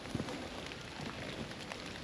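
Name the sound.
rain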